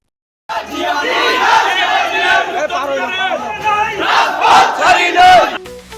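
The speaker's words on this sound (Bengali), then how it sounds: "স্টেশন এলাকাটি নেতৃবৃন্দ আসার অনেক আগেই মুখরিত হয়ে ওঠে স্লোগান করতালি আর উচ্ছ্বাসে" A crowd at a railway station rally chants slogans loudly in rhythmic unison, voices close and dense, with shouting swelling in waves and clapping mixed into the roar.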